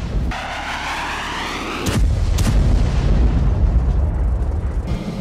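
An American bunker buster bomb detonates with a loud, deep boom, followed by two more sharp blasts and a sustained low rumble.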